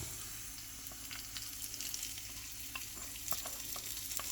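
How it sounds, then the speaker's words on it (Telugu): Steady frying sizzle with scattered crackles and pops as a tempering is poured into potato pachadi, fairly quiet, no voices. "పోపు వేగింది, ఇప్పుడు ఈ పోపు కూడా ఇందులో వేసేసుకుంటున్నాం."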